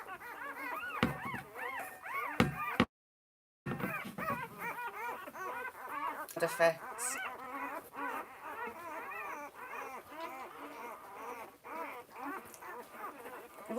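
Newborn puppies squeak, yip and whimper in a continuous high-pitched chorus close by, with a brief dropout partway through and a short spoken question mixed in.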